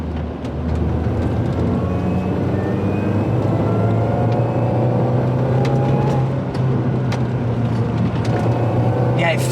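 An R53 MINI Cooper S engine drones steadily and loudly from inside the car while driving, with a low rumble, rising engine tones and road noise running throughout, and someone talking over it.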